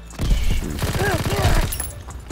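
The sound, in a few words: gunfire from a WWII video game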